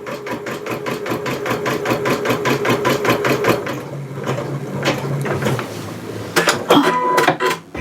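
A Janome MC100E embroidery machine stitches in fast, evenly spaced mechanical taps, then pauses into softer whirring and clicks, likely trimming threads, before a brief final burst of buzzing and clatter.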